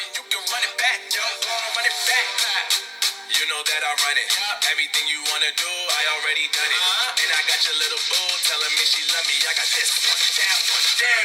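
Music with vocals plays through an Infinix Hot 10 phone speaker, small and bright-sounding, steady and fairly loud, with thin bass throughout.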